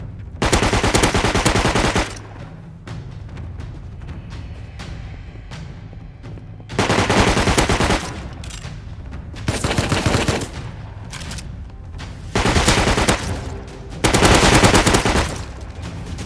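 Bursts of automatic gunfire ring out during a fight in the survival game Rust, loud and close, coming in several separate volleys of rapid shots with quieter gaps between them.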